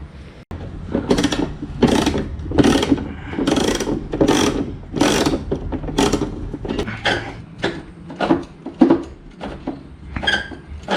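Wrench tightening then loosening a rusty bolt on a go-kart: a series of about a dozen rhythmic ratcheting clicks and creaky grinding strokes, close and moderately loud, with brief pauses between pulls.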